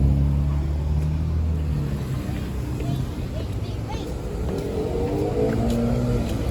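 Busy street traffic on Danforth Avenue in Toronto's Greektown on a windy day, cars rumbling and passing close by in a continuous heavy wash, with someone talking over it.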